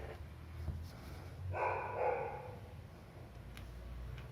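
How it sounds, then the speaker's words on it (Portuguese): A dog barks somewhere in the background, a muffled, fairly faint burst of a couple of seconds rising out of low room noise, with no talk over it. "Ela não quis parar de latir."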